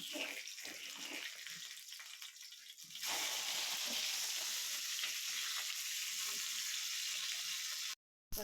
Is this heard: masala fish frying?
yes